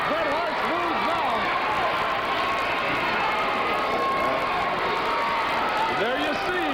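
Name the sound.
wrestling crowd in the video game NWA World Wide Wrestling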